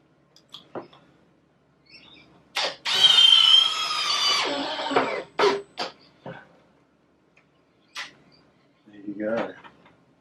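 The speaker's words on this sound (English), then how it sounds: "I also pre-drilled these holes just with a 5mm bit before I'm screwing them off" Drill driving screws into pre-drilled holes in timber battens for an outdoor shower frame, a loud whirring burst of a couple of seconds plus several short revving bursts and clicks, close by, with brief voice sounds between.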